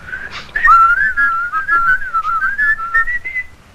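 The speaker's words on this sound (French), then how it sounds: "Moi, d'habitude, quand je rentre, je siffle, hein." A person whistles a wandering, tuneful melody on arriving home. The whistling is close and clear and continues for several seconds without talk.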